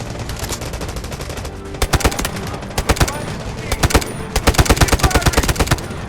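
Gunfire in the Delta Force video game, with bursts of automatic machine-gun fire and single loud shots. The shots come in irregular clusters throughout, some close and sharp, others more distant, over a dense battle background.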